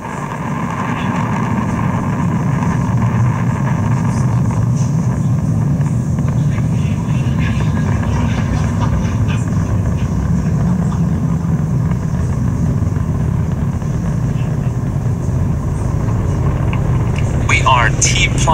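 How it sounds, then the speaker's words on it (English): A SpaceX Falcon 9 booster on its 13th flight lifts off from Launch Complex 39A carrying Starlink satellites, producing a steady, deep, broad roar that fills the whole stretch beneath a voice talking over it. "Falcon 9 has successfully lifted off from Launch Complex 39A, carrying our 53 Starlink satellites into space"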